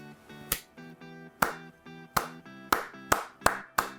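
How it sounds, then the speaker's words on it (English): A slow clap with about eight sharp, separate claps spaced roughly half a second apart. Each is loud and close, over a soft sustained tonal background. "we gotta give a slow clap to the internet"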